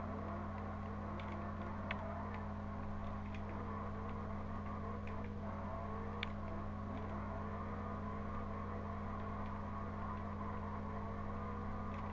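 Engine drone of a 2016 Dodge Viper ACR drifting in the racing game Forza Horizon 2, a steady, even hum that runs throughout with no clear revving peaks.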